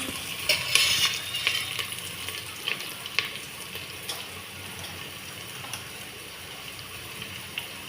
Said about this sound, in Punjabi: ਹਲਕਾ ਜਿਹਾ ਭੁੰਨਾਂਗੇ ਇਹਨਾਂ ਨੂੰ ਆਪਾਂ ਹਾਂਜੀ ਪਿਆਜ਼ ਆਪਣੇ ਹਲਕੇ ਭੁੱਜ ਗਏ ਆ